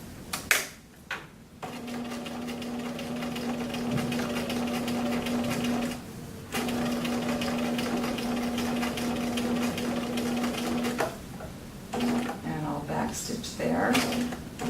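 A sewing machine top stitching a garment cuff runs in long steady bursts with short pauses between them, a close, even motor hum with a low voice talking over it.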